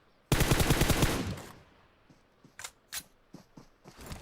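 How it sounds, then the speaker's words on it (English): M4 rifle spray fire in PUBG Mobile sounds as a loud, rapid burst of gunshots lasting about a second, followed by scattered quieter single shots and clicks. "So these are some M4 spray downs that they're hitting at this point."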